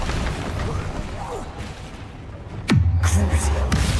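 An Incendio fire spell cast in a Harry Potter game set in 1800s Hogwarts, a sudden whooshing burst with a deep booming rumble that lingers briefly, following muffled combat sounds and spoken dialogue.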